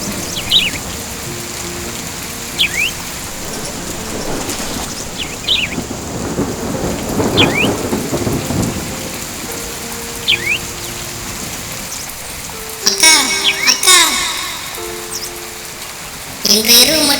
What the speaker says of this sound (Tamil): ஒரு நாள் இரவு கடும் மழை,